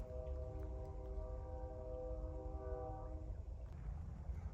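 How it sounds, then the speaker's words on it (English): A big train near an abandoned brick yard sounds a long, steady horn blast that fades after about three seconds. A low, constant rumble of the passing train continues beneath it, faint and distant. "here's a train, the actual train, the big train"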